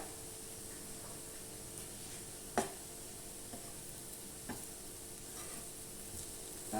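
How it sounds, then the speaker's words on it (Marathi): Taro (arbi) slices stir-fried in a pan hiss with a steady sizzle, broken by a few sharp scraping clicks of the spatula turning them. "आता परतून घेऊया"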